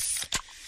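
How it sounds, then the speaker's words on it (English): A freshly opened, fizz-filled Pepsi can gives a short, bright carbonation hiss, with a brief louder burst near the middle. It stands alone, close and fairly quiet, with no talk. "Oh yeah, that's the sound of a freshly opened fizz-filled Pepsi."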